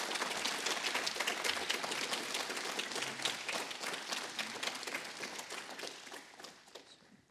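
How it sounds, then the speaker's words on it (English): Audience applause after a conference talk fills the room with dense, fairly faint clapping that continues for several seconds and gradually thins out toward the end. "So please give another round of applause too."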